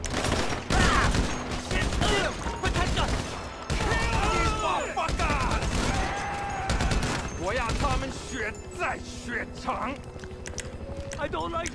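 GTA Online gunfire in a casino mission, with rapid bursts of shots crackling among voices shouting over the fight, loud and busy throughout before thinning toward the end.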